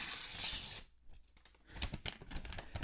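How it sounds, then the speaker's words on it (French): An envelope torn open on stage at a comedy awards show: a sustained ripping of paper, then a brief hush followed by crinkling and rustling as the envelope is handled, close and fairly quiet. "J'ouvre l'enveloppe."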